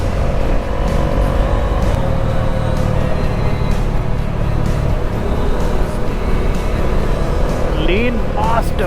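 A motorcycle accelerates hard on a village road in Ladakh, its engine and wind roaring loud and continuous close by, with a rising whine near the end.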